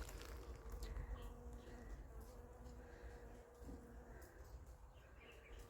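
Bees work flowering wild plants, making a faint, low buzzing that drifts in and out over soft outdoor background noise, with an occasional distant bird call.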